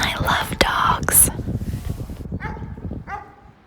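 Dogs on a snowy Central Park path in New York give a few short yips and whimpering barks at close range, mixed with whispering voices and crunching movement.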